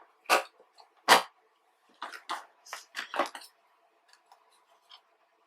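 Paper being trimmed with scissors for a So Grateful card-making stamp set, a few crisp snips at close range, two sharp cuts followed by a quicker run of smaller snips and faint trailing clicks.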